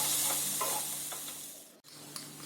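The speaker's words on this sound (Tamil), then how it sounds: "இப்போது இஞ்சி விழுது போட்டு இதையும் நல்லா வதக்கிக்கலாம்." Ginger paste sautés in a pan with softened shallots for Ramadan nombu kanji, a close hissing sizzle with a few stirring scrapes and a brief break near the end.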